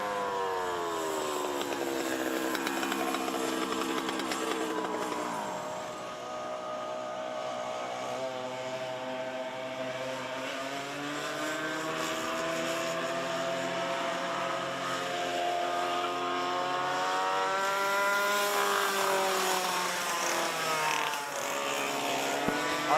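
Junior 2 Yamaha racing karts lap a karting speedway, their small two-stroke engines buzzing continuously at high pitch, several machines overlapping and rising and falling as they pass, alone without voices.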